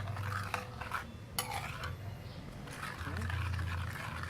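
Ingredients with sugar, garlic, pepper and red onion are stirred in a cooking pan. A spoon scrapes and clinks steadily against the metal over a busy, noisy background.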